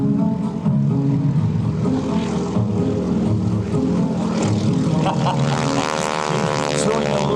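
A radial-engine propeller airplane roars steadily during takeoff at an airshow, a loud, dense throbbing drone that grows harsher and more tonal toward the end.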